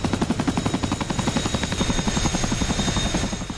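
Chinook helicopter flying in the DCS combat flight game, its loud rotor thumping in a fast, steady rhythm throughout, with a constant engine whine and no talking.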